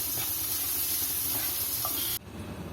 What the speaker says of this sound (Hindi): वेजिटेबल हमारी फ्राई होगी